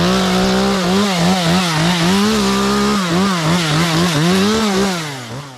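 A chainsaw trims brush at the base of a dead tree, its engine loud and close, revving up and down in repeated surges throughout.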